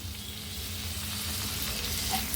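Two medium tomatoes fry in oil with onion and ginger garlic paste, giving a steady, close, continuous sizzle with a faint low crackle underneath and no pauses.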